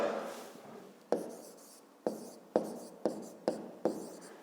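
Pen writing by hand on paper during a maths exercise, faint scratchy strokes with about six sharp taps as marks or dots are made, close and quiet, no talk.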